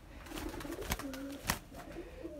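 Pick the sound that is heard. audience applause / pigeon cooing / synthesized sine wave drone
pigeon cooing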